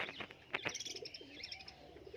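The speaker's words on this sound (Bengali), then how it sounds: "এটা কি পায়রা? কামাকার, কামাকার, গোল্ডেন কামাকার।" Golden kamagar pigeons coo softly in a loft, low rolling calls mixed with a few sharp chirps and light wing or cage sounds, faint and close.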